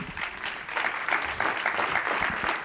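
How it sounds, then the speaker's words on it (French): Warm audience applause at the close of a food-tech conference day at an agricultural school, dense continuous clapping from a seated crowd, fairly loud and steady. "Merci beaucoup Mathieu, on peut vous applaudir chaleureusement"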